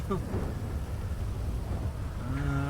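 Steady rain with a low thunder rumble in the GTA V LSPDFR police game, a constant wet hiss and deep roll throughout, with a brief tonal sound rising near the end.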